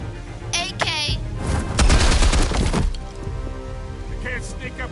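A rapid, loud burst of AK rifle fire in a video game crackles through the middle, with sharp cracks and a booming tail, while people talk before and after.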